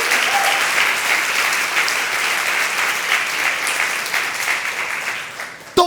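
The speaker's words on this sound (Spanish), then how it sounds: "Entonces, bueno, aplaudimos," A church congregation claps together during a sermon, a loud, dense wash of applause that carries evenly for several seconds before cutting off abruptly at the end.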